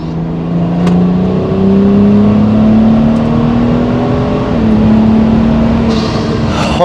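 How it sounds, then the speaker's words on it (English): A loud turbocharged BMW N55 car engine pulls hard at full throttle in fourth gear, pitch climbing steadily with a whistling whir, then dipping briefly before climbing again. "that is the first time I have been able to full throttle the car"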